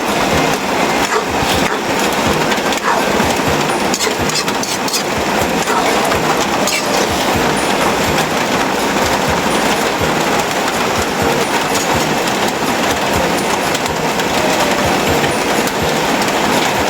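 Steady rain pours down outdoors on a hot day, a dense, even hiss with no pauses that holds at the same loudness throughout, with no voices over it.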